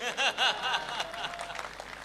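Applause from a poetry gathering audience, scattered clapping with a few chuckles and murmurs mixed in, fairly soft and not very dense, with a brighter burst near the start.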